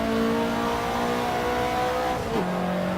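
A Ferrari 288 GTO's engine in the Assetto Corsa racing game drones steadily under load, its pitch rising before dropping sharply at a gearshift and carrying on lower, loud and continuous throughout.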